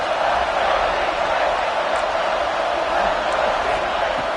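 Dense, steady roar of a football stadium crowd during a third-down red-zone play, loud and continuous throughout with no distinct breaks.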